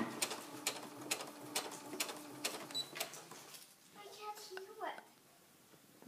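A sewing machine stitches the hem of a T-shirt being upcycled into a dress, a rapid mechanical ticking and whirring in short bursts, fairly quiet, with a few back stitches before it stops.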